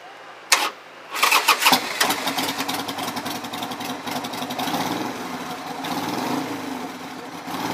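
A 1996 Harley-Davidson Sportster 883 motorcycle starts up: a short crank and a stumble, then the engine catches and settles into a loud, close, lumpy idle that runs steadily to the end with no talking.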